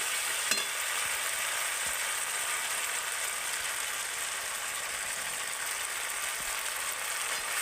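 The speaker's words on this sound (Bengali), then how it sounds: "মশলাটাকে আমি সুন্দর করে কষিয়ে নেব" Ground spice paste with turmeric stir-fries in a pan for a koi fish curry, giving a constant loud sizzle with an occasional scrape or clack of the spatula, no voices.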